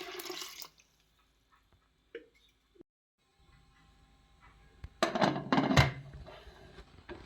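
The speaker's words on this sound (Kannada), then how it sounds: "ಅದಕ್ಕೆ ಈಗ ಫುಲ್ ಅದು ಮುಳುಗುವಷ್ಟು ನೀರು ಹಾಕಬೇಕು." Water is poured into a pressure cooker of rice, toor dal, peanuts, green peas, beans and carrots in two short splashing bursts, the first brief and the later one fuller, separated by quiet with small clinks.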